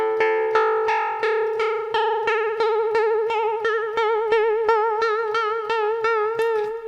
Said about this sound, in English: actually you can really hear that wobbly pitch effect